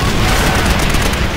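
Machine gun fire in a Call of Duty wartime battle plays as a dense, loud, continuous burst of rapid shots and booms filling the whole moment, with no pauses.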